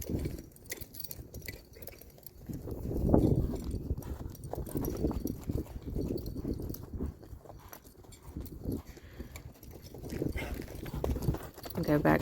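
A horse's hooves beat in a steady three-beat rhythm while it lopes in an arena during a spur-training session, with rhythmic thuds and faint tack jingling throughout.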